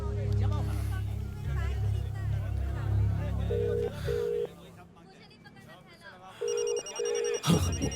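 A mobile phone rings in a room in two short bursts of a repeating electronic ringtone, heard over steady low background hum while people talk nearby.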